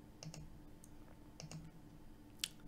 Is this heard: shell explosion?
no